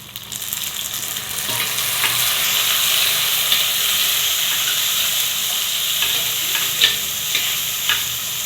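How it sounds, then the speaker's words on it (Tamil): Onions, green chillies, curry leaves, mustard and fenugreek seeds frying in hot oil give a steady, loud sizzle with a broad hiss, swelling after the first second and holding with occasional spatters and stirring clicks. "எண்ணெய், கடுகு, வெந்தயம், வெங்காயம், பச்சை மிளகாய், கருவேப்பிலை இதெல்லாம் போட்டு நல்லா வணக்கிடணும்"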